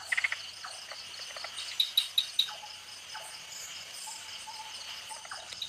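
Tree frogs call at night in the Thai forest: a quick burst of four sharp, evenly spaced chirps rises over a steady insect drone, with other faint calls scattered throughout at moderate distance.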